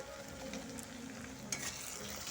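Eggs and green peas with onion, tomato and turmeric being stirred in a frying pan: a quiet, continuous sizzle with soft spatula scrapes and one brief clink, heard alone without talk.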